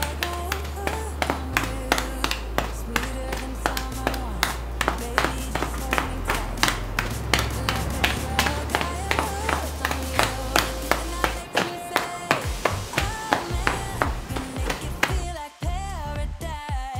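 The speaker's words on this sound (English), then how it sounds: "And now start knocking." Rhythmic knocking with hands on the body during a lymph drainage exercise, a steady run of sharp slapping taps repeating about twice a second over upbeat background music.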